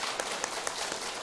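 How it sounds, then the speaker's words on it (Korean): A church congregation claps for heads of households during a sermon, with brief, faint, evenly spaced claps in a quick rhythm over a soft room wash. "우리 박수 한번 해요"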